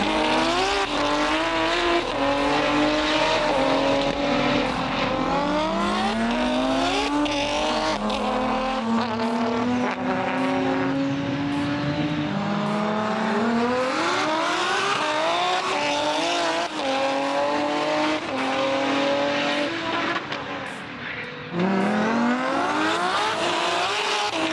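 A turbocharged 1079-horsepower R32 Skyline GT-R engine roars and revs repeatedly during roll racing, pitch sweeping up through the gears in loud, close passes with brief tire squeal.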